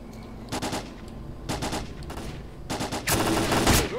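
Automatic gunfire in the video game S.T.A.L.K.E.R. Clear Sky, loud close bursts of rapid shots in several separate volleys, the last one longer and heavier.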